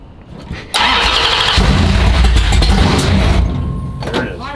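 A race car's 440 and HEMI engines crank and fire up loudly, catching with a sudden roar and settling into a rough, lumpy idle. A brief voice is heard near the start.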